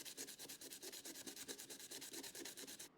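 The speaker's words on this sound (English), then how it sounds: "I can start prepping them by sanding off the remains of the supports" Rapid back-and-forth sanding strokes rasp against a hard 3D-printed mould shell, sanding off support remains, in a steady, even rhythm, close up and continuous, with no voices.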